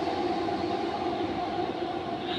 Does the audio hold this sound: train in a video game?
yes